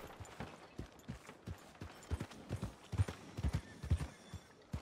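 Horse hooves in the open-world western game Red Dead Redemption 2 clip-clop at a walking pace in an uneven rhythm, soft and fairly close, with the thuds growing somewhat heavier toward the end.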